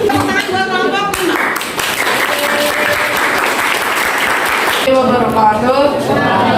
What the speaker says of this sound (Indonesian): Oke, tepuk tangan buat kelompok 6.